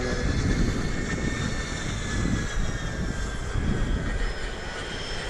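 L-39 jet aircraft engines at an air race, heard as a steady broad roar with a whining high tone that holds unbroken from start to end, loud and without any talking.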